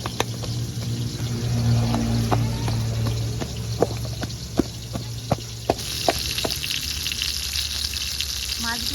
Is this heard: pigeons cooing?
no